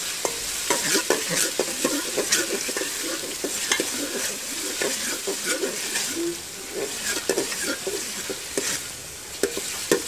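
Ingredients for masoor dal pulao fry and sizzle in a pan while being stirred, with steady crackling and repeated scraping strokes of a spoon, close and fairly loud throughout.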